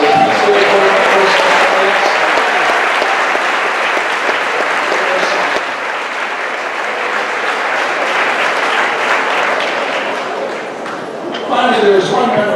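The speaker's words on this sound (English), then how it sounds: "please stand for a round of applause for the PTO board members" A middle school promotion ceremony audience gives a sustained, loud round of applause for the PTO board members, with a broad wash of many hands clapping that swells slightly near the end.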